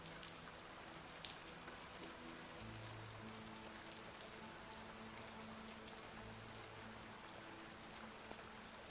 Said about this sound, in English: it does not stop raining today